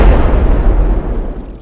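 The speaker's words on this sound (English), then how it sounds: "asshole's got a grenade launcher!" A loud grenade launcher explosion in a video game, a deep booming blast that rolls and slowly fades.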